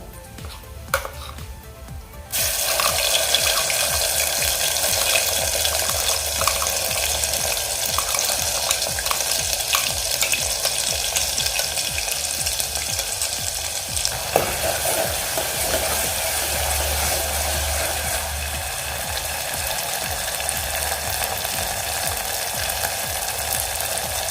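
Ground masala paste sizzles and fries steadily in a hot pan with cumin for a black kidney bean dal curry, a dense continuous crackle with occasional stirring scrapes, close and loud, no voices.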